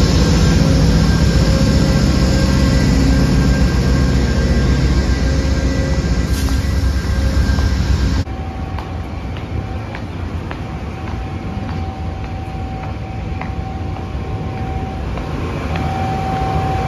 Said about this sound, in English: our train continued heading eastbound